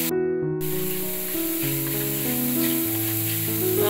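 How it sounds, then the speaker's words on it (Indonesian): Garlic sizzling and crackling in hot oil while being stir-fried for a pastel filling, a loud, continuous close hiss with some faint tones beneath it. "Kita tumis-tumis sampai harum"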